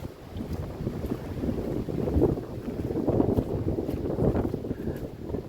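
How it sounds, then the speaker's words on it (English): Wind gusts across an outdoor trail, buffeting the microphone with a continuous low rumbling roar that swells and eases throughout. "Wind's blowing right across there, I don't know if you can hear me."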